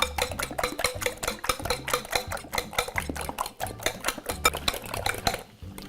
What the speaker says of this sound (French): Ensuite avec une fourchette, on va bien les battre.